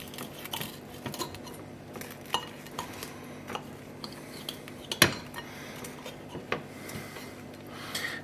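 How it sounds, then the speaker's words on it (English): A knife cuts a croque monsieur sandwich in half on a plate, producing scattered light clinks and scrapes of metal on crockery. One sharper clack stands out midway. "I'm going to go ahead and cut this in half"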